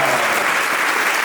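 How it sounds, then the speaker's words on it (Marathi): Loud, dense clapping from a large audience at a motivational talk, a continuous roar of hands that holds steady for the whole moment. "वाजवा एकदा टाळ्या जोरात वाजवा."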